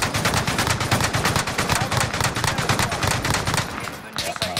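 Rapid video game gunfire aimed at a helicopter, loud continuous automatic bursts with dense rattling shots throughout, briefly thinning near the end.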